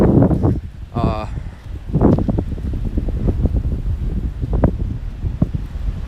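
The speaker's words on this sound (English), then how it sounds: "Sorry, the wind up there was crazy." Strong outdoor wind in Washington, D.C. buffets the microphone with gusty, rumbling low-frequency blasts that surge and fade, joined by a brief tonal sound partway through.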